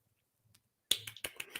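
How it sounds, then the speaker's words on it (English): Quiet, polite golf clapping: after near silence, a handful of sharp, light claps land in an uneven rhythm, close and soft. "Golf clap. Golf clap."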